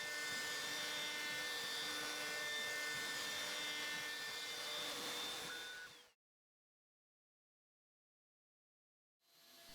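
A loud, steady whining of a 4030 desktop CNC router spindle with a ball bit cutting material for about six seconds, then silence before the machine noise starts again.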